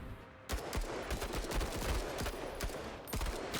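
Gunfire in the tactical video game Menace crackles in rapid bursts of sharp shots, a dense fusillade of overlapping reports that continues for several seconds with no talk over it.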